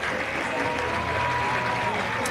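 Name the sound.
baseball crowd applauding pitcher leaving game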